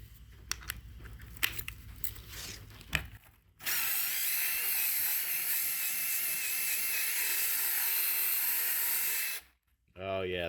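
Power drill with a wire attachment stripping foam off a car headliner, a loud sustained high whine and scrubbing roar lasting several seconds before cutting off, preceded by softer scraping and handling sounds.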